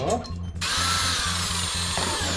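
A power drill bores a hole through a fencing mask overlay, a steady close motor whine running nearly continuously with a slight dip early on.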